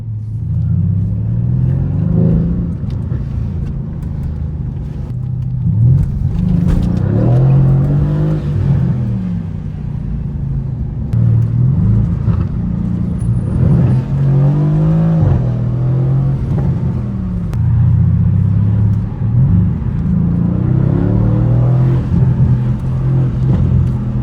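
A Mercedes-AMG C63 S engine with stock exhaust rumbles close by with a deep, steady growl, rising and falling in repeated revs throughout.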